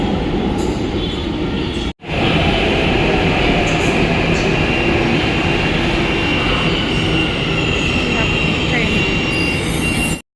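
A metro train rumbles loudly and steadily from inside the carriage in Hyderabad, with wheel squeal and a brief cut near the start.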